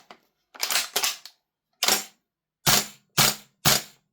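A VFC L403A1 KS-1 airsoft rifle fitted with an upgraded barrel and hop-up is test fired, giving six sharp, close shots, spaced irregularly with short gaps and two of them in quick succession, each a brief mechanical crack.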